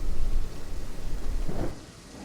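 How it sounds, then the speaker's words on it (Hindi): Heavy rain pours down with a deep rolling rumble of thunder, loud and dense at first, then easing off toward the end of the short stretch. "बारिश जोरों से हो रही थी। बिजली की गड़गड़ाहट के साथ पूरा माहौल डरावना और भयानक लग रहा था।"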